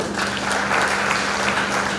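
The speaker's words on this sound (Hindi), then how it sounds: "गिरीश भाई को, संजय भाई को ताली बजा के बधाइयाँ दें" A seated crowd at a large spiritual gathering breaks into sustained, dense clapping in congratulation, a steady even roar of many hands at close range with no pauses.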